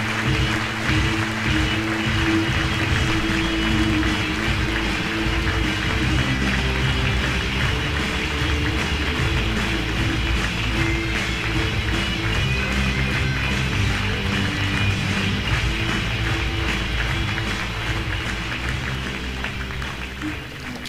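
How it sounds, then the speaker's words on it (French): An audience welcomes Professor Philippe Bagus with warm applause at the Röpke Prize ceremony of the Liberal Institute near Zürich, a dense, steady wash of clapping lasting about twenty seconds before tapering slightly. "Veuillez accueillir avec une chaleureuse ronde d'applaudissements professeur"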